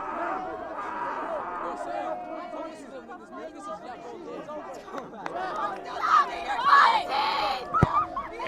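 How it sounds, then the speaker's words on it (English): Crowd noise at a high school boys varsity soccer tournament match, a steady babble of chatter and shouting that swells louder in the last few seconds, with a sharp shout near the end. "And the crowd is getting wild up"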